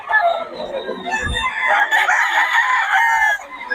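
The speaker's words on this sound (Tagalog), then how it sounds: "Puro high station yung mga manok ni boss." Several of boss Bob's roosters crow in overlapping calls, close and loud, with clucking and someone talking under them.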